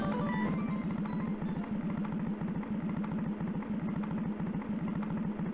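The Beep-Mobile in Chibi-Robo 2 driving across park grass, giving a steady, rapid mechanical putter like a small idling engine that runs continuously at even volume.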